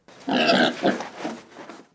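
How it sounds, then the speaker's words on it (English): A pig grunts and oinks in a few close, loud bursts, the first long and strong, followed by shorter fading snorts, with no talking. "the pig, el cerdo"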